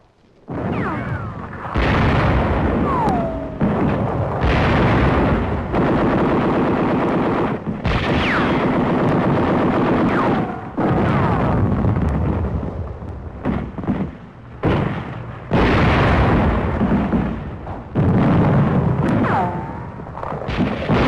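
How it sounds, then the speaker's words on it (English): Self-propelled 105mm howitzers firing during a 1944 attack: repeated loud booming blasts and gunfire bursts with brief pauses between them, as in wartime combat footage. "Self-propelled 105mm howitzers spearhead the attack."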